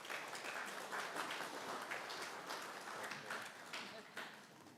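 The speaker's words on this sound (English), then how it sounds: "Let's give these ladies a round of applause." Audience applause at a spring school assembly, a steady wash of many hands clapping for several seconds at moderate level, fairly distant and diffuse.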